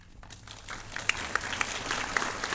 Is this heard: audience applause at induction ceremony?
yes